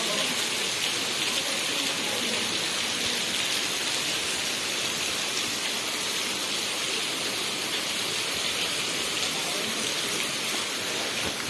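A dense, steady downpour of heavy afternoon rain falls over cotton farmland, a loud unbroken wash of hiss and patter close by throughout.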